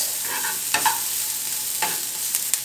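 Peppers, squash and vegetables fry in a pan with salt and pepper, giving a steady close sizzle while a spoon stirs them, and a few brief scraping strokes cut through. No one talks.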